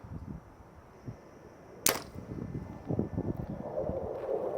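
Single sharp shot from a Mathews Lift compound bow, a crisp snap with a short bright burst near the middle, set against steady outdoor wind noise and rustling.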